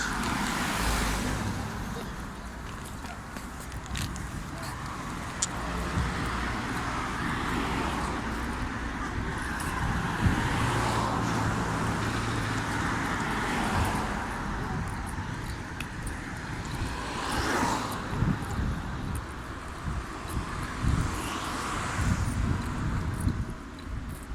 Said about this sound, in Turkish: Araba geliyor geç kenara geç